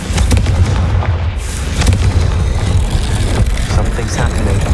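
A loud, rumbling magical blast from the Confringo spell in the video game Hogwarts Legacy, a dense booming roar that fills the whole stretch with heavy low-end rumble and crackle.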